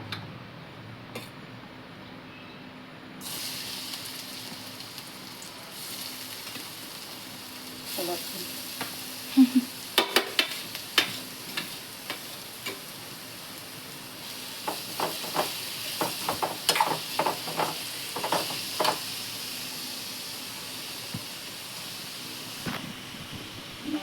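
Food sautéing in a home kitchen pan makes a soft, steady sizzle, punctuated by irregular clicks and taps of a spoon stirring against the pan.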